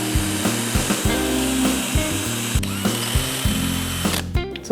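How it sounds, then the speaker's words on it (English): A power drill whirs in short repeated bursts, biting into material with a grinding hum while fitting a fender and sissy bar kit on a Honda Shadow, close and loud with no voices. "And I'm gonna drill a hole."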